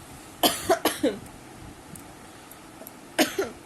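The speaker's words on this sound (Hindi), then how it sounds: "सॉरी, खांसी आ गई" Several short harsh coughs in two bursts, close and fairly loud, with a quiet pause between them.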